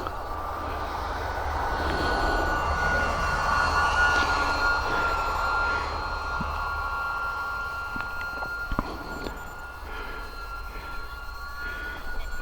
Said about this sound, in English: I think it's well overpowered though, for such a light and small plane.